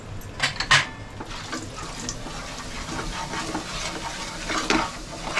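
Chili powder, turmeric and coriander powder fry in hot oil in a kadhai over low gas, giving a soft steady sizzle with spoon stirring and a few louder scrapes and clinks against the pan.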